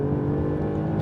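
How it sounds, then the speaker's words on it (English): A 2021 Alfa Romeo Giulia Quadrifoglio in dynamic mode, its exhaust rasping loudly and steadily as it accelerates, with a close, continuous engine drone and no voices. "you open up the pipes and listen to it, lovely rasp on the upshifts and on the downshifts"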